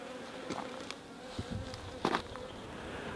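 Honey bees buzz faintly around a water bucket next to a hive, with scattered soft buzzes and a few close fly-bys over quiet outdoor background.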